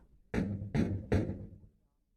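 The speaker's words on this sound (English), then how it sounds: "Someone knocks at the door." Three firm, evenly spaced knocks on a door ring out close and clear, each with a short resonant tail, followed by silence.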